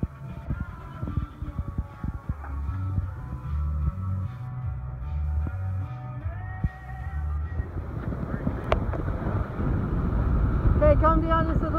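A 2017 Jeanneau 54 sailing yacht underway at about 8 knots gives a steady low rumble of hull and water rush with wind buffeting that grows stronger near the end, while people talk over it.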